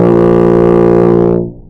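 A beginner's first buzzed tuba note rings out as one steady, loud brass tone for over a second, thick with low harmonics, then fades away quickly.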